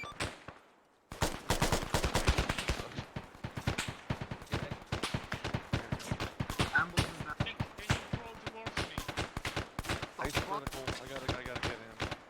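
Gunfire from hill defences in the war game Vandal Commander during an assault on Hill 426, with rapid bursts of automatic fire that begin after a brief quiet and go on loud and dense, cracking close and overlapping throughout.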